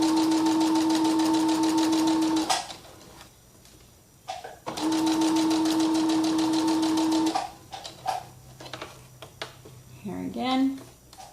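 A sewing machine stitches fabric scraps into coasters in two steady bursts of rapid, even rattling, pausing while the presser foot is lifted and the work turned, then fainter handling clicks and a brief voice-like sound near the end.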